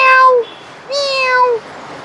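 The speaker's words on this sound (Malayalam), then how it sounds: "അത് പൂച്ചയാണല്ലോ അല്ലേ?" A cat meows twice, close and loud, two drawn-out cries separated by a short pause, heard on a road trip through Kerala toward Munnar.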